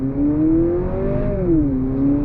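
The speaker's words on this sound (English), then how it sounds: "So you got some simulated shifts there," A 2023 Honda CR-V Sport Touring hybrid SUV in sport mode accelerates on throttle, its engine note rising steadily and then dipping in simulated shifts, a smooth continuous hum heard from inside the cabin.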